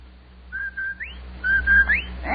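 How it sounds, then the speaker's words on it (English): A two-note rising whistle, the Rinso White jingle from a 1944 old-time radio comedy program, sounds twice in quick succession, clear and alone over a low broadcast hum. "That's the Rinso White whistle."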